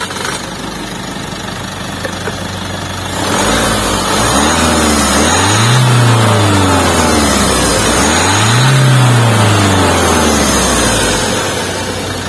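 A turbo diesel engine of a 2022 Isuzu MU-X 4WD SUV cranks and starts with a low rumble, then settles into idle with two revs rising and falling, loud and close.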